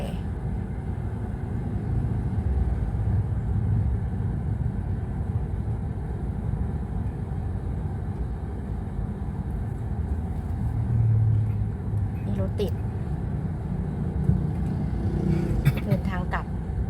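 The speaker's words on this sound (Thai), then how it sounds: "รถติด" Evening traffic crawls through a jam on the roads around Pattaya, a continuous low rumble of idling and creeping car engines with occasional voices nearby.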